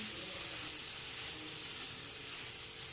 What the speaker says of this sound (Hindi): और सोया सॉस 1 टेबल स्पून, और सिरका है 1 टेबल स्पून। अब इसको मैं मिक्स करूंगी